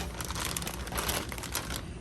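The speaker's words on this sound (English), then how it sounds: "we're going to use a plastic bag here and drop the tri-tip in" A plastic bag crinkles steadily as a tri-tip roast is dropped in for marinating, a close, continuous rustle running throughout.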